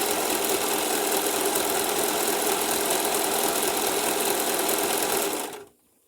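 A Singer Profinish serger runs steadily while stitching fabric, a fast, even mechanical whir that holds for about five seconds and then stops abruptly, leaving silence.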